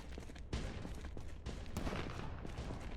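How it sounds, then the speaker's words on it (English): Bursts of gunfire in the video game Project Zomboid crackle and boom repeatedly over a dense, noisy background, fairly quiet overall. "Ooh, gunfire."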